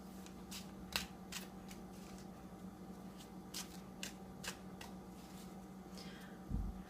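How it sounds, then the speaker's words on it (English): Cards are shuffled by hand in soft, irregular riffles and slides, close up over a faint constant hum, with a small bump near the end. "I'm going to continue to shuffle just a bit more until I feel the cards are ready for a cut"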